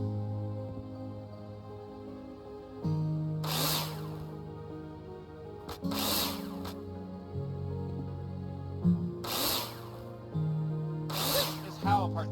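Power drill driving screws into plasterboard in the building game Builder Simulator, four short loud whirring bursts spaced a few seconds apart over steady background music.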